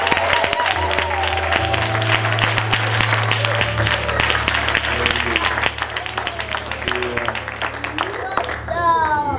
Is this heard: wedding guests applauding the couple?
yes